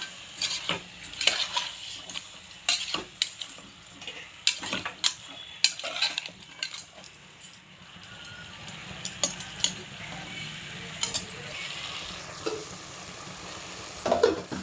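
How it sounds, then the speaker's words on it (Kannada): Spoon stirring mutton sambar with turmeric and rock salt in a pot, quiet scraping and clinking strokes in irregular bursts over a faint simmering bubble. "ಸ್ವಲ್ಪ ಅರಿಶಿನ ಹಾಕ್ಕೊಂಡು ಹಾಗೆ ಮಿಕ್ಸ್ ಮಾಡ್ಕೊಳ್ಳೋಣ ಒಂದ್ಸಲ"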